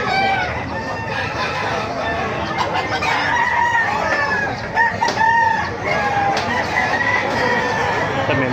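A kanawayon gamefowl rooster, ten months old, crows loudly and clucks nearby among other fowl at a market, with someone talking now and then.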